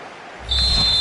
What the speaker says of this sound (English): And there it is, the final whistle, and the fans will be leaving the stadium with smiles on their faces.